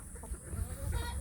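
Free-range village chickens cluck softly close by, a short run of low murmuring calls from several birds under a faint background hiss.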